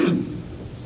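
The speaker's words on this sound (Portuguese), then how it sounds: "Essa tosse está brava também" A single cough with a throaty clearing at the start, close and fairly loud, fading into quiet room tone.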